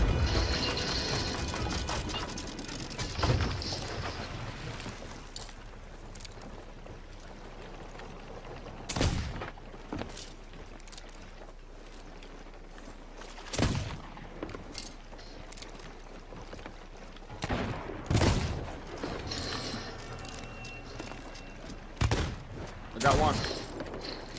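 Heavy booming blasts of port-side ship cannons in Sea of Thieves go off at intervals over a steady mechanical rumble and creaking, with occasional voices talking in between.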